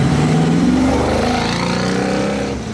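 A turbocharged Honda CRX pulls away hard from a Houston car show, its loud, close engine note rising steadily as it accelerates, then fading slightly at the end.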